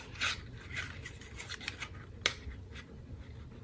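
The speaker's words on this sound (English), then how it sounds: "We're going to cut that out." Scissors cutting out a stamped paper piece: quiet, close snips and rustling paper in a soft uneven rhythm, with one sharper click partway through.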